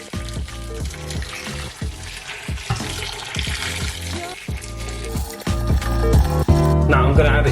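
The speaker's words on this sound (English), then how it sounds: "Now I'm going to add enough water to just cover the potatoes." Tap water runs into a cooking pot over roughly cut potatoes for Portuguese caldo verde soup, a steady loud gush with ringing metallic resonance that deepens and swells as the pot fills.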